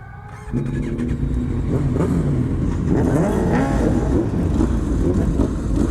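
Motorcycle lapping the Slovakia Ring race circuit, its engine droning loud and close throughout with rising and falling revs as the rider works the throttle.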